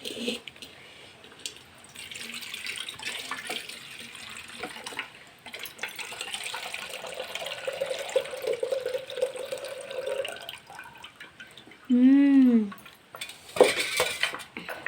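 Soaking water is poured off boiled groundnuts in a village kitchen, a soft steady trickle and splash with pot and utensil clatter and sparse talk.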